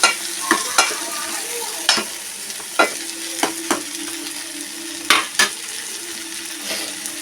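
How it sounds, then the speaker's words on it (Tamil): Eggplant being sautéed and stirred in a pan for a South Indian kathirikkai gostu, a steady sizzle broken by repeated clacks and scrapes of the spoon against the pan, close and with no voices. "அதனால் பச்சையாக போட வேண்டாம் அப்படிங்கிறதுக்காக ஒரு வதக்கு நம்ம வதக்குறோம்"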